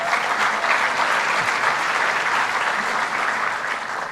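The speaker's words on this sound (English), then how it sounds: "Give him a round of applause." A conference audience at a tribal nations address breaks into sustained applause, loud and even throughout and tapering slightly at the close.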